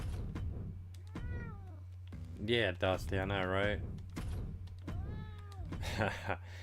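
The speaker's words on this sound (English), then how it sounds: "That is my cat" A pet cat meows several times at close range, each call a clear rising-and-falling cry, while someone talks in between over a steady low hum from equipment in the room.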